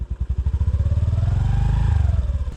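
A motorcycle on a mountain trail toward a high-altitude lake in Nepal chugs loudly and close, its engine thumping in rapid, even pulses that build slightly in pitch as it strains uphill.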